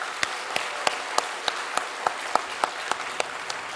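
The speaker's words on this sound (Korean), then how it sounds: "우리 같이 한번 박수 한번 보내드릴까요?" Congregation at a church thanksgiving worship service claps in sparse, evenly spaced single claps, about a dozen sharp strikes over a few seconds, moderately near with no voices.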